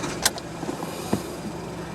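A Ford Fiesta EcoBoost with a no-boost fault (code P132B) idling: a steady low engine hum heard up close, with two brief sharp clicks, and no talking.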